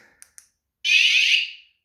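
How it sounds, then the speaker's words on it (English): An alarm system sounds with two alarms going at once, a sustained high shrill tone lasting under a second after a couple of short chirps, close and loud with no talking. "And that's 2 alarms going."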